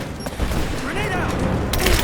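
Gunfire in the video game Rise of the Tomb Raider, a dense fusillade of shots and booms running throughout, heard close and loud with shouting combat voices over it.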